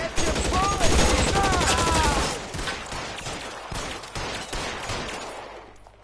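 Rapid bursts of gunfire from a game, dense crackling shots at first that thin out and fade, mixed with clashing effects and no clear voices.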